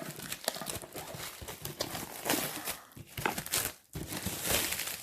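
Plastic wrap being cut with scissors and pulled off a Pokémon Sun & Moon Elite Trainer Box, with close, continuous crinkling and tearing in irregular bursts, no talking.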